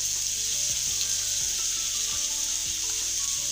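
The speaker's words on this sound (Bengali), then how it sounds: "এভাবে করে সুন্দর করে এটাকে কষিয়ে নিতে হবে" Vegetable filling with salt and carrot sautéing in a pan for spring rolls and samosas, a steady loud sizzle with occasional stirring scrapes, close and continuous with no talk.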